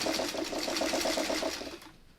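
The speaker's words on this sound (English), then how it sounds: "Get our 1/4 inch in line. Do a little back stitch." A sewing machine runs steadily for about two seconds, stitching a quarter-inch seam with a short back stitch, its rapid even rhythm close and clear before tapering off.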